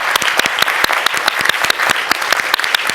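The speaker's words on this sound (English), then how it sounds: "I'd like to give a big round of applause to both of them" Audience applause at a Washington policy panel on U.S. leadership and state fragility: dense, steady clapping from many hands, loud and close, sustained evenly throughout.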